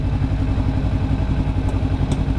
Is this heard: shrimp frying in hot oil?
no